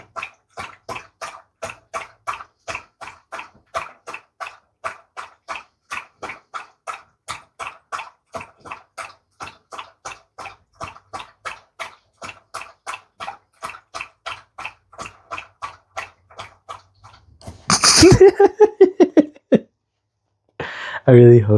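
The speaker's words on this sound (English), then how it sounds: "That was my dog drinking a lot of water." A dog laps up a lot of water in a long steady run of rhythmic slurps, close and clear, followed by a brief louder clatter and splash near the end.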